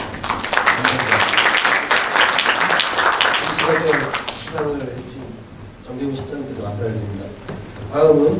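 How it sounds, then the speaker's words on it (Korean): Audience applause at a hanok design competition award ceremony, strong clapping for the first half that dies away as an announcer begins speaking over a quieter room. "대리께서는 힘찬 박수를 한번 부탁드립니다."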